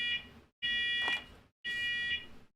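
A smoke alarm in a house sounds three loud, harsh electronic beeps, each about a second long with short gaps between, close by.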